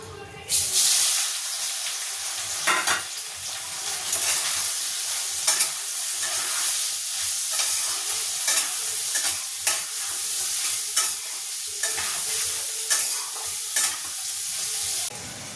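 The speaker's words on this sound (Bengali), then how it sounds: "কড়াতে একটু নুন আর হলুদ দিয়ে নিয়েছি, এবার এইগুলোকে ভেজে নেব।" Soybean chunks and potatoes fry in a pan seasoned with salt and turmeric, giving a steady close sizzle broken by repeated scraping stirs of a spatula across the pan.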